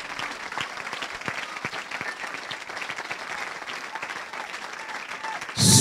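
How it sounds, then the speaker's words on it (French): A church congregation gives a loud hand clap for God, sustained dense applause filling the room, ending in a sudden louder burst. "We give a mighty hand clap to the Lord."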